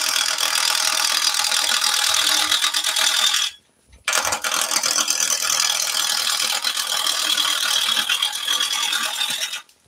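Wood hollowed on a lathe with a Woodcut Pro-Forme tool, a loud continuous rasping, chattering scrape with one brief pause midway, close and harsh throughout.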